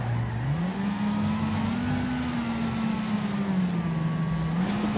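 Race cars in the demolition racing game Wreckfest roar with a steady, loud engine drone whose pitch rises and dips as they accelerate and rev, continuous across the whole stretch with no speech.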